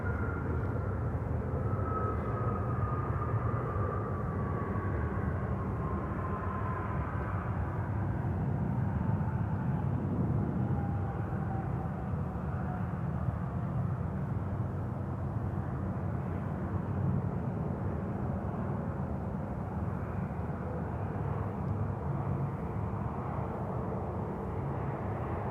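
An Airbus A321neo at Sydney Airport: a steady, distant jet engine roar with a slowly falling whine, droning on without a break.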